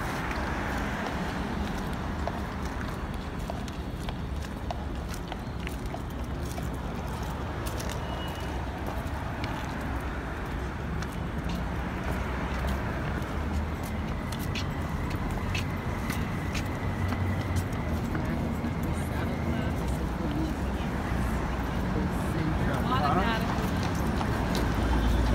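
Horse hooves clip-clopping on a New York City street near Fifth Avenue and Central Park South, heard faintly under steady traffic rumble and someone talking continuously in Spanish.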